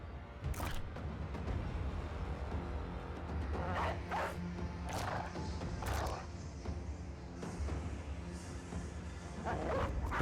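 Game dogs in Battle Brothers barking and yipping in scattered short bursts over roughly ten seconds, mixed with rustling combat effects and a constant low background drone.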